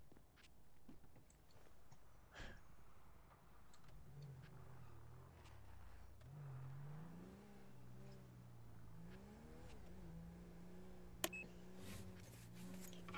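A car engine hums and rises and falls in pitch as it drives and accelerates, steady throughout with a few clicks and a sharp tick near the end.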